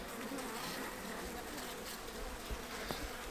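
Honey bees buzz steadily at an open hive during spring inspection, a dense continuous drone with a few sharper passes close by, alone without talk.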